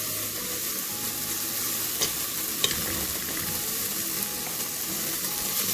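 Ginger, garlic and red onions sizzle in a hot pan for channa dal while being stirred, producing a steady, close frying hiss broken by a few soft scraping clicks.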